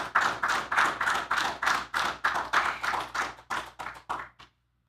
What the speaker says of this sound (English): Can you give him another round of applause, please?